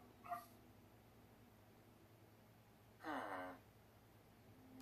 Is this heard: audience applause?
no